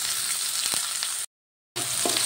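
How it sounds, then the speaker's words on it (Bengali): One large chopped onion frying in a pan after whole spices were tempered in oil, a dense, even sizzle with a few stirring taps, briefly cut to silence midway before resuming. "এবার পেঁয়াজগুলো ভালো করে ভেজে নেব।"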